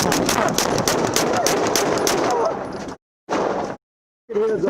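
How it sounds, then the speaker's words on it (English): Gunfire during a police traffic stop shooting in Bemidji: a rapid, loud burst of repeated shots fills the first half, then cuts off abruptly, with shouting voices heard briefly afterward. "Shots fired, shots fired,"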